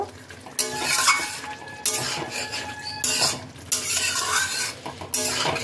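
A spoon stirs garam masala powder through a tilapia fish gravy in a pan, giving repeated scraping and clinking strokes in bursts with brief pauses, close and fairly loud, with no voices.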